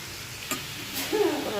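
Bitter gourd and onions fry in a pan while being stirred, a low sizzle with a couple of light scraping knocks, close and moderately quiet.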